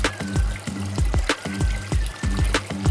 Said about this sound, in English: 5 minutes later, it drains.